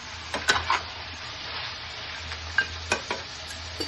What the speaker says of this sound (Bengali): অল্প হলদি পাউডার আর অল্প শুকনো লঙ্কা পাউডার দিয়ে আমি মাংসটা অল্প ফ্রাই করে নেব।